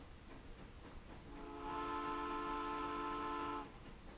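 A freight train hauling livestock and grain pulls away in the Transport Fever game, a sustained tonal whistle rising over a low rolling rail rumble for about two seconds before fading back to the background hum.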